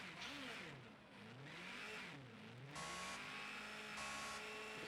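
A high-pitched V12 race car engine in the video game Project Cars 2 revs up and down repeatedly, its pitch sweeping and whining, with a loud steady mechanical drone in the second half.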